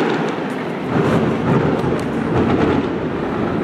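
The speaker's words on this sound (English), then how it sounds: "That's some harmless fireworks." Loud fireworks exploding outdoors on the Amalfi Coast in Italy, a continuous rumbling, crackling roar of overlapping bursts that swells and holds steady without a break, heavy and booming like distant thunder.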